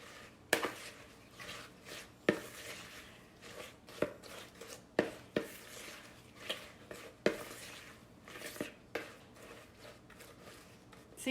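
Haystack treat mixture with chow mein noodles being stirred in a bowl, a series of scraping, clinking strokes at an irregular rhythm, close and moderately loud with no talking.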